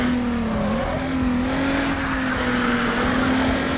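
Steady engine drone with tire grip noise from a Hyundai Tiburon GT in the racing game Need for Speed Underground, holding a continuous loud tone with a slight pitch dip and rise and no talk.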